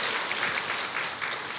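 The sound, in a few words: applause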